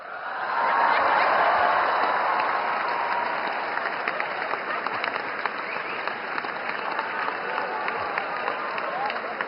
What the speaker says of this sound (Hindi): जैसे जैसे समय आता जाए ताली बजाते जाइए।